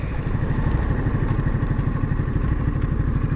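A Ducati Monster motorcycle engine running in touring mode, a steady, close, low pulsing idle rumble with a regular rapid beat throughout.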